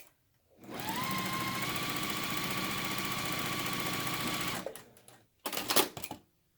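A sewing machine stitches quilt block pieces for a partial seam log cabin block in one steady, close whirring run of about four seconds, followed by brief clattering handling noises.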